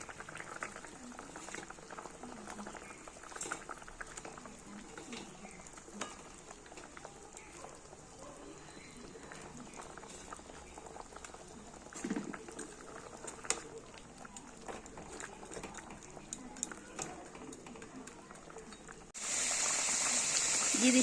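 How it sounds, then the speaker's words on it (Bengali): Fish curry broth with fried katla fish rolls at a steady boil in a cooking pot, a continuous close bubbling and simmering hiss running throughout, growing louder and brighter in the final seconds. "ঝোল পুরো ফুটে গেছে"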